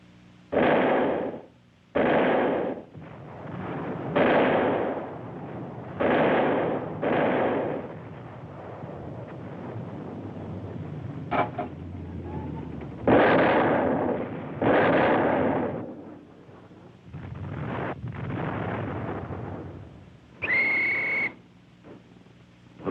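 Artillery guns blast hillside slopes during a Second World War battle in Sicily, firing a series of heavy, booming shots in irregular succession, each followed by a rumbling decay, with a brief whistle near the end.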